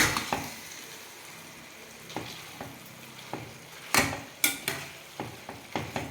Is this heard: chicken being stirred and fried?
yes